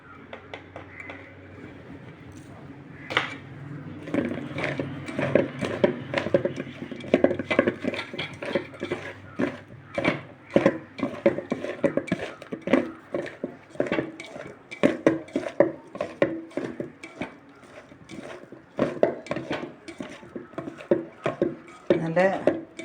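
A spoon scrapes and clacks steadily against a pan while cucumber thoran is mixed with salt, in fast, irregular strokes close by, under continuous talking.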